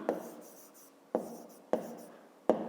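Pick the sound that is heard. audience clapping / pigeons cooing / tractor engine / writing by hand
writing by hand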